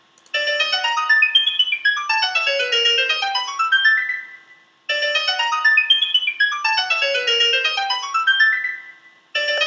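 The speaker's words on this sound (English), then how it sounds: "By default, I think this is generating piano sound." MIDI-generated piano tones from a Blender Music21 sound generator play quick cascading note runs, repeated twice in a clean, bright pattern with a short gap between, and no talking.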